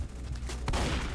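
SMG gunfire in the Roblox-style shooter Strucid, a dense burst of rapid shots with a sharp loud crack near the middle, continuous and close with no talk over it.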